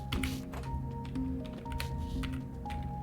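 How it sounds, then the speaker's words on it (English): A self-recorded sound effect of a door being opened plays in a puzzle video game: a cluster of small taps and clicks, then a few soft knocks, over quiet sustained musical tones. "this is me opening a door"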